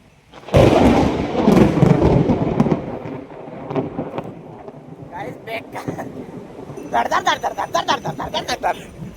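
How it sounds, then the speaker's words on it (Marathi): Thunder rumbles during a storm at Guhagar, with a loud, deep rolling crash early on, then lighter cracks and bursts, while voices can be heard talking. "विजा नुसता गडगड गडगड गडगड गडगड गडगड गडगड"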